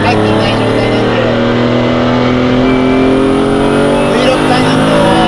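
The mid-mounted V6 engine of a Ferrari Dino 246 GT, right behind the seats with almost no sound insulation, drones loudly and steadily from very close by, a deep constant hum that holds without pause throughout.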